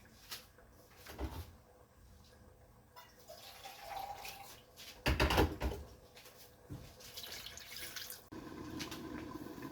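Water splashes and pours in a short burst midway into a pot of chicken wing curry, with clinks and kitchen clatter before and after and a steady background hum, no talking.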